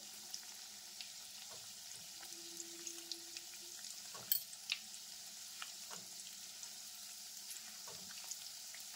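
Lachha nimki frying in hot oil makes a steady, soft sizzle throughout, with a few light scrapes and taps as the pieces are gently turned over.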